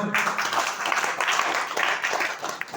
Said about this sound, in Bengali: সাইদ ভাই জন্য একটা তালি হবে।